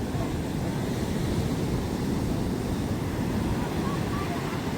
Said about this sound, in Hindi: ये देखिए पानी कितने तेज लहरों के साथ में बह रहा है चारों तरफ।